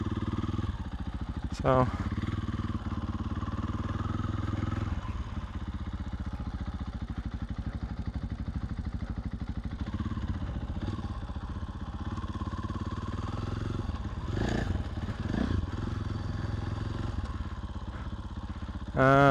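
A motorcycle moving slowly through obstacle practice, its engine a low steady putter with small revs and brief throttle blips, near and continuous, with a rider talking over it at times.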